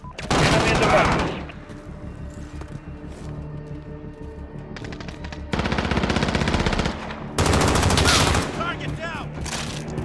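Sustained automatic gunfire from a Call of Duty: Modern Warfare multiplayer match at an HQ objective, loud bursts of rapid shots and a fusillade that rise and fall, with brief shouted callouts over the firing.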